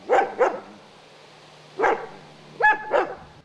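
A livestock guardian dog on a farm barks in separate loud, close woofs: a quick pair, a pause, one more bark, then two more near the end, with no talking.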